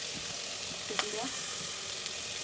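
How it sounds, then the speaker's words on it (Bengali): Spice paste of garlic, ginger, turmeric, chili powder and salt sautés in a pan with a soft, steady sizzle, broken by a single light utensil clink. "এখন মশলাটাকে কষাবো।"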